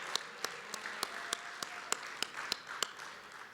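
Faint, distant applause from the audience at the opening session of the Atlantic Regional Osteopathic Convention 2022. A few sharp, evenly spaced claps stand out close by against a soft wash of clapping and murmur.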